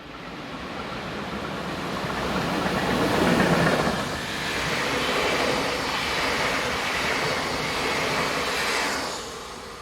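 An Austrian class 1144 electric locomotive hauling an early Vienna to Passau service passes by, a broad rolling roar that swells to a peak, eases slightly, then holds steady before fading near the end.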